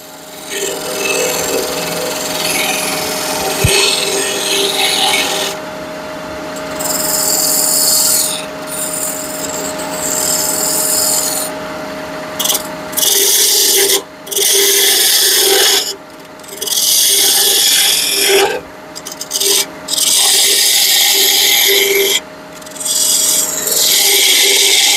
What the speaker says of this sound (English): I'm going to fine tune that with my smaller spindle gouge